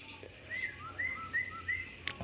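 White-rumped shama (murai batu) birds kept together give four short, evenly spaced bright chirps over a faint, steady background hum, with a brief sharp tick near the end.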